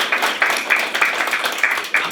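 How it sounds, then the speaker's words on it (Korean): A crowd of residents claps at a district office town meeting during a district head's New Year neighborhood visit, with steady, rhythmic, fairly close hand claps in unison throughout. "이럴 때 박수 한번 주세요"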